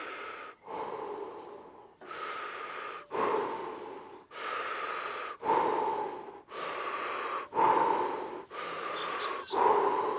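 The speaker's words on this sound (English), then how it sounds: "Breathing in through the mouth, breathing out through the mouth." Deep, fast breaths in and out through the mouth, loud and close, in a steady rhythm of rushing inhales and exhales split by brief gaps, with no talking.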